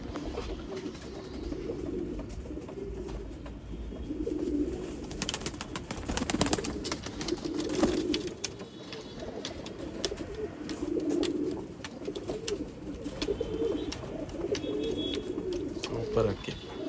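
Old line pigeons at a bird sale in Bangalore coo in soft, repeated low phrases close by, over a steady rustling background.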